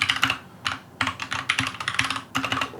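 Rapid bursts of computer keyboard typing as a project name is entered, crisp close key clicks in short clusters with brief pauses between them, no voices.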